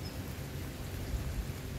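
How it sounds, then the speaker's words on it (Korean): Rain falls at dawn as a steady, even hiss of drops, soft and continuous, with no other distinct sounds breaking through. "이렇게 비가 오는 새벽에"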